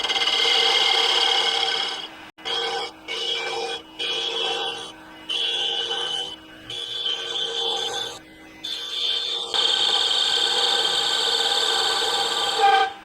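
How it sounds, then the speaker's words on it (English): A big gouge cuts a wooden ornament spinning on a lathe, giving a steady raspy scraping hiss that breaks off and resumes in short bursts, then runs in a longer continuous cut near the end. "we're going to take the big gouge, and I'm just going to angle this off for the most part"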